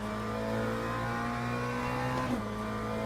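A GT3 race car engine in the Assetto Corsa EVO racing game holds a steady, droning mid-pitched tone with a brief pitch shift near the end, continuous and up close with no talking.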